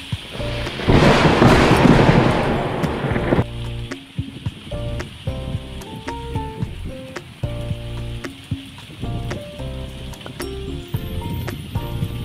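Morning thunderstorm with heavy rain, a loud rumbling burst of thunder over steady downpour in the first few seconds, then the rain continues more softly beneath sparse ringing tones for the rest.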